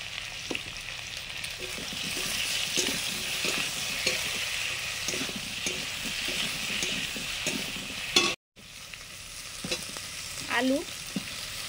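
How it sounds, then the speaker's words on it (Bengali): Vegetables lightly frying in a pan with salt and turmeric, a steady close sizzle punctuated by repeated scraping stirs of a spatula, briefly interrupted by a cut before the frying resumes. "হালকা করে সবজিগুলো ভেজে নিচ্ছি"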